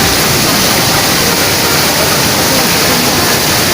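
Steady, full roar of a two-tier waterfall at Lubuk Kudo in Balimbiang, Padang, close and loud, a dense unbroken wash of falling water with no voices over it.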